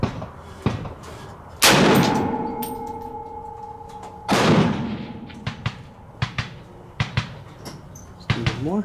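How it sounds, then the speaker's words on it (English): A rifle fires at a target 100 yards away: two loud, close gunshots, each with a long echoing tail, followed by smaller clicks and knocks. "first we're gonna shoot a couple at 100, make sure we're still dead on"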